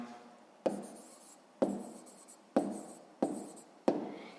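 Pen writing out a sixth-grade math solution on paper, five distinct bursts of scratchy strokes, each starting sharply and trailing off, close and quiet with no talk.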